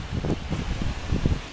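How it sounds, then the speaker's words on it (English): A gust of wind rustles the leaves of a tree beside a 19,900-volt power line. The sound is a soft, uneven swishing in close bursts with a little microphone buffeting, and no one speaks. "here comes another gust, I think"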